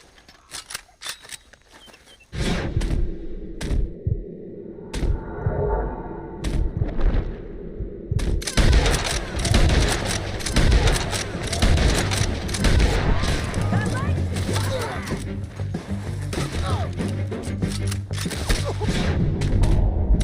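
Gunfire rings out in a Red Dead Redemption 2 shootout: after a quieter lead-in, dense overlapping shots and booms pile up and keep going loud and continuous, with voices speaking beneath the barrage.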